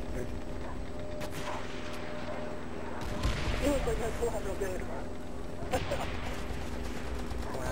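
Enemy tank cannon fire aimed at the player during a World at War team deathmatch on PS3, heard as a couple of heavy booming blasts over a continuous rumble of battlefield gunfire, with a voice talking throughout.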